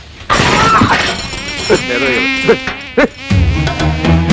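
Flies buzz in a Telugu comedy film scene, a steady whining drone that starts abruptly and runs continuously, close and fairly loud, with a few brief bursts layered over it.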